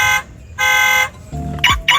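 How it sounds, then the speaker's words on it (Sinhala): Two loud, sustained electronic horn blasts from a toy model Toyota Land Cruiser 300, followed by a short low sweep and a couple of brief chirps. "මේ වගේ යාළුවනේ අපිට මේ විදිහට හෝන් එක ගහන්න පුළුවන්."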